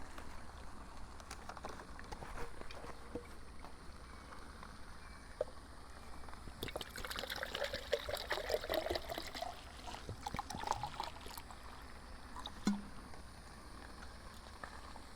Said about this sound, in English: So I'm gonna pour some water in here.